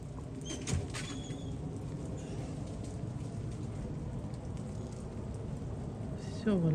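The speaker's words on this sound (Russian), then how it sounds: "Дождик, что ли, идет?" Steady rain patters on surfaces outside on an icy day with trees coated in ice, a continuous soft hiss with a few sharper knocks and a brief voice near the end.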